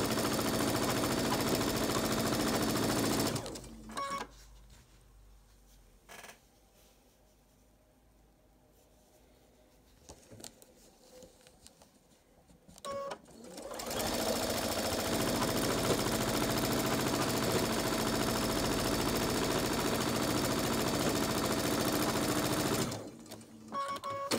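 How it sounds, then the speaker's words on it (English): A sewing machine runs steadily with a fast whirring stitch, stops for several seconds, then starts again for a longer continuous run. "sewing machine, so here we go."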